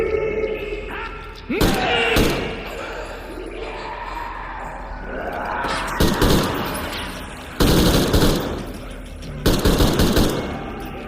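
Gunfire in Metro Exodus, sharp loud shots and short bursts spaced across the stretch with heavy thuds, over a low rumbling background.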